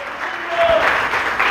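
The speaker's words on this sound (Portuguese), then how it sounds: "Mais forte as palmas, aleluia." A church congregation claps during a worship service, a broad wash of many hands swelling slightly louder midway, with a faint voice calling out over it.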